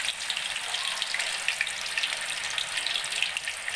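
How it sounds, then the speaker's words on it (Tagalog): Tofu frying in a generous amount of cooking oil, a dense, steady bright sizzle with small popping crackles throughout, close and continuous. "Ngayon, umpisaan ko ng prituhin ang aking tokwa. Isa-isahin natin siya, ilalagay sa mantika."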